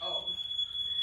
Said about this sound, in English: Jabin, can you shut off the smoke detector